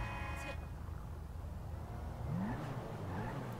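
A car engine in GTA V holds a steady, fairly loud drone, then one quick rev swells upward partway through, with faint tyre and road noise around it and no talk.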